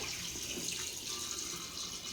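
Heated water pours steadily into a pot of spicy chicken masala, making a soft, continuous rushing and gurgling sound that stays fairly quiet, with no talking.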